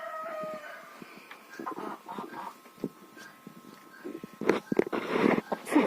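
A farmyard hen sitting on a nest of eggs gives soft, close, irregular clucks and murmurs, growing busier and louder toward the end.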